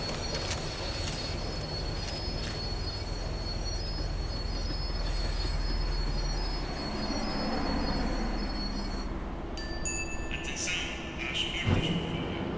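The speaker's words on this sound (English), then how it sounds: "The tram was slowing down." A tram in the video game Max Payne 3 slows down, with heavy steady rail rumble and high sustained wheel squeal, ending in clanks and brake noises near the end.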